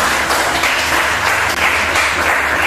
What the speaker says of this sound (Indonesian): Bagus sekali ya, tepuk tangan semuanya.